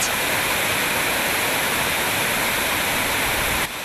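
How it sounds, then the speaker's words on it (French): Natural waterfall cascades at a scenic site near a village, a steady loud broadband roar of falling water that fills the whole stretch, dropping slightly at the very end. "De magnifiques chutes d'eau au cœur d'un cadre pittoresque"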